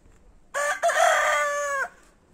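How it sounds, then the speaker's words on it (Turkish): A rooster at a Turkish village house garden crows once, loud and close, a single sustained cock-a-doodle-doo of about a second and a half against a quiet rural background with no talking. "bu horozun fazla ötmesi insanı gerçekten rahatsız ediyormuş uykuda"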